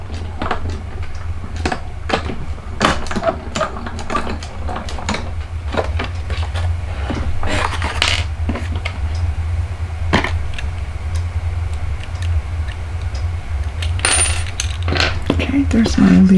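Scissors cut paper leaves for a Christmas card, a close series of crisp irregular snips and rustles over a steady low hum.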